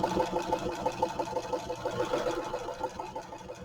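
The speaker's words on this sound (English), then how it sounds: "So then I'm just going to run a straight stitch right along the bottom." A sewing machine runs a steady straight stitch along the bottom of a mini journal cover, a close, even mechanical whir with no talking.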